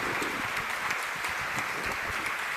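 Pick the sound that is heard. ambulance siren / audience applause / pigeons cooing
audience applause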